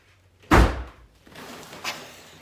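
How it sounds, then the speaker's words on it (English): A greenhouse door, in an underground greenhouse, is slammed shut once with a heavy thunk, followed by a short rattle and a second lighter knock as it settles. "She's gonna close the door really hard so you can see it rain in here."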